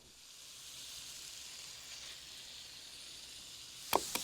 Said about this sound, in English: I'm going to cook them in the skillet now.